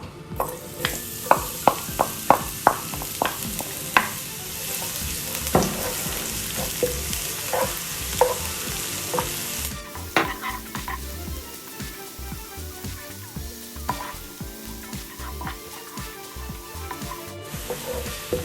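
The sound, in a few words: garlic frying in oil in a cooking pan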